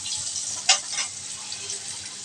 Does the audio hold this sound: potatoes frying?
yes